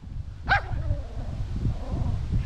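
A dog lets out one sharp bark early on, followed by softer whimpering yelps over a low background rumble outdoors.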